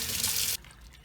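A tap runs in a brief hissing rush of water over hands being washed with waste vegetable oil soap, then cuts off abruptly, leaving only faint drips and room noise.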